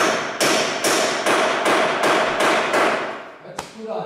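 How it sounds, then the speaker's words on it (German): Steady hammering, about ten sharp blows in an even rhythm, close and loud, ending with a few scattered knocks and clatter. "Hörst du mal mit dem Geklopp auf"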